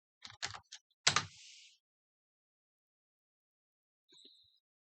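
A few quick clusters of computer keyboard key taps at the start, then silence and a faint click near the end.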